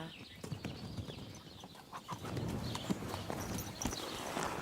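A horse's hooves strike the ground in the medieval game Kingdom Come: Deliverance II, a close clip-clopping beat that turns steadier and louder as it goes.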